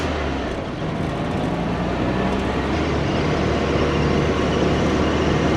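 An old Volkswagen Beetle cruising on the highway, a loud, steady broadband roar of engine, road and wind noise with a faint whistle from a poorly sealed window, constant throughout from inside the cabin.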